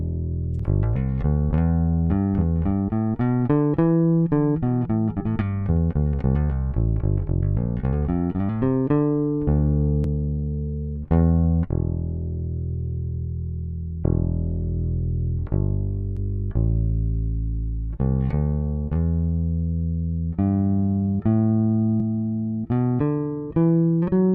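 Bass guitar through a Universal Audio Teletronix LA-2A compressor pedal, with an even, squeezed sound, plays a series of notes, some rapid runs and some held tones, each attack evened out, alone and loud.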